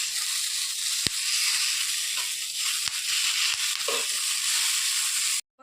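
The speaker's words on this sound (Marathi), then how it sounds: "बघा की मग अशा मिरच्या भाजून घेते मसाल्यामध्ये." Chillies and coriander seeds dry-roasting in a pan for masala, a soft continuous sizzle with occasional scrapes and clicks of stirring, fairly close, ending in a sudden cut.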